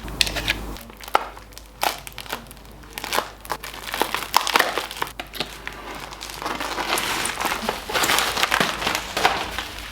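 Mail packaging being cut open and pulled away from parcels holding parts for a Ford Sierra Cosworth restoration, heard as close, irregular crinkling and crumpling of wrapping with sharp tearing bursts, growing busier and denser toward the end.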